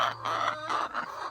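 A backyard chicken, raised from a chick in a brooder and kept in a homemade coop, clucks in short, close, bright bursts, about three quick vocal calls in a row with no talk over them.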